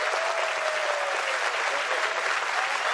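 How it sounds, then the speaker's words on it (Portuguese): A television studio audience applauds for musicians on stage, a loud, even wash of clapping that continues without pause through the whole short stretch. "Por favor, aplausos ao músico brasileiro aqui e aqui também."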